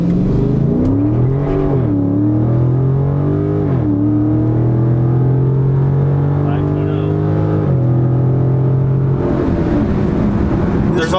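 A Dodge Hellcat's engine revs and then pulls hard in a loud, sustained acceleration, its pitch climbing and dropping at several gear shifts, with voices inside the car.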